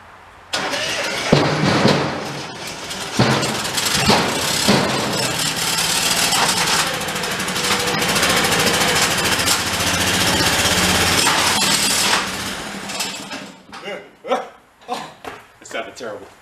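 Terramite compact machine engine with a thrown rod running roughly on one cylinder, loud clattering and knocking with a harsh uneven roar that holds steady, then sputters and dies into irregular bursts near the end.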